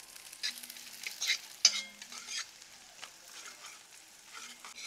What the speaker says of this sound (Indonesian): Bawang merah, bawang putih kita tumis dulu.